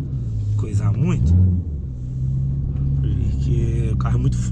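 A Corvette's engine rumbles steadily and deeply indoors inside a market, a close, continuous low drone beneath ongoing male conversation.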